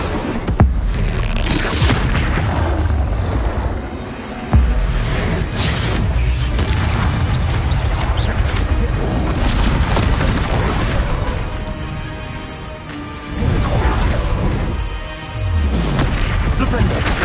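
Incendio fire spell and other combat spells cast in the video game Hogwarts Legacy, a run of loud booming blasts and whooshing bursts one after another, with a voice shouting spell names between impacts.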